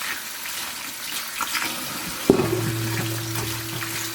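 Water splashes and sloshes in a filled kitchen sink as organic lemons are washed with a cloth, then a steady running-tap tone starts partway through and continues to the end.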